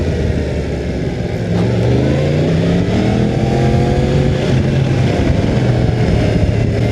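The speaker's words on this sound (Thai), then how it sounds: "แต่เสียงท่อไม่ได้ลั่นมากนะ เพราะว่าคันนี้ยังไม่ได้เปลี่ยนท่อเลย" MT10 motorcycle on its stock exhaust accelerating hard, a loud, continuous engine roar with the pitch climbing through the revs, close and dominant with no talk.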